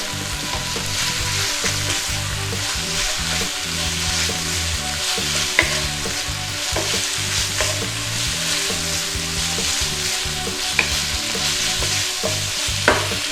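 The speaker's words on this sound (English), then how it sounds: "So in with our Holy Basil leaves. Quick stir around." Beef stir-fried with holy basil leaves in a hot pan for pad kra pao, a steady close sizzle with repeated scraping stirs and a few sharp utensil clacks against the pan, no talking.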